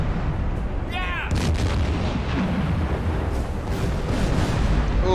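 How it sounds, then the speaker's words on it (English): Deep booming explosions and artillery-like blasts from a WWII submarine game, dense and continuous with rumbling low end and sharp bursts, a brief whistling tone near the start, and a faint voice underneath. "Oh yeah, explosions."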